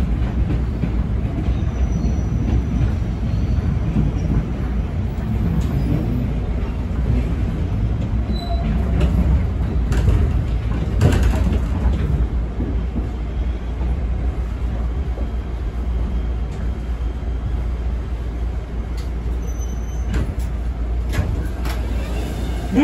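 A PATH PA-5 subway train runs toward World Trade Center, loud and close from inside the car, with a constant rumbling roar, rattles and occasional squealing wheels, a voice faintly present underneath.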